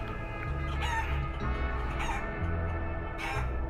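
Chicken clucks and crowing sounds come from the video game Guacamelee! Super Turbo Championship Edition, repeating over a steady synthesized music backdrop with low bass tones.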